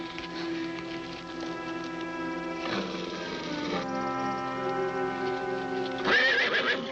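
A horse whinnies loudly several times while hooves clip-clop in a steady rhythm underneath, close and clear.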